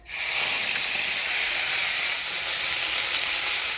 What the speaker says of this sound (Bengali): এবার দিয়ে দিব বাটা মশলা আদা জিরা আর কাঁচা লঙ্কা বাটা